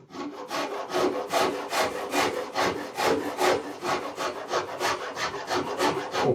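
A luthier works a bevel into a wooden guitar body, making steady back-and-forth rasping strokes, loud and close, with a regular sawing rhythm and no talk.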